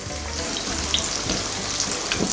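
Breaded chicken pieces, Kentucky style, fry in a pan with a loud, steady, close sizzle and crackle, joined by occasional soft knocks and stirring sounds, with no voices.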